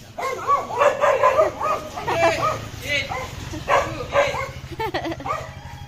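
A dog barks and yips repeatedly in short clusters nearby at Baler Beach, with voices talking over the barking.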